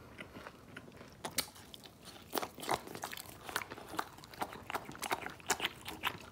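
French bulldog biting and crunching a crispy croissant, with repeated close, crisp crunches and chewing in an irregular rhythm and no talk over it.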